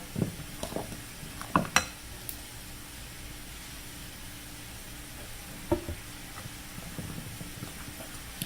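A hashbrown mixture is stirred in a bowl, giving a few soft scraping and clinking strokes at the start and again later, separated by a quiet, steady kitchen hiss.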